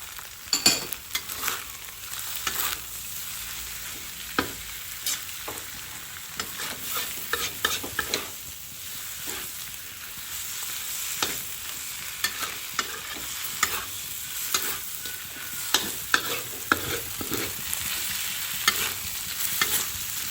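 Bean sprouts stir-fry in a wok for char kway teow, with a steady hiss of sizzling broken by frequent sharp scrapes and clanks of tossing and stirring, and no talking.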